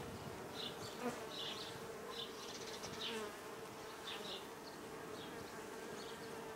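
A honey bee swarm buzzes continuously at close range, a faint steady drone with individual bees flaring louder as they pass, no voices.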